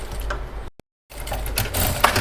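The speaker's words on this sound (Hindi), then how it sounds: "तो मैं यहाँ से तब तक सिलाई लगा लेती हूँ।" Sewing machine stitching fabric on a kids' lehenga, a quick mechanical rattling run that stops abruptly for a short silent gap, then resumes at a busy clatter.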